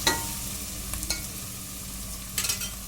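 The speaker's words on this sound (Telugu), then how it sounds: "ఇదిగోండి ఇలా బాగా కలుపుకోవాలి" Beans and tomato curry in a pan with a soft, quiet sizzle and a few short scraping stirs of a spoon, with no talking.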